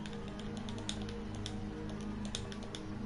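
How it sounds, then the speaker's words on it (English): Fast, steady typing on a computer keyboard with a dense run of close, crisp key clicks over a constant background hum, and no voices. "Typing McGee"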